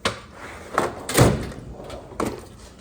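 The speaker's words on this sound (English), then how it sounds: "I literally just opened that drawer." A drawer in a home workshop tool chest slides open, giving a short knock at the start, a fuller rolling thud in the middle and another brief clunk near the end, close and fairly loud.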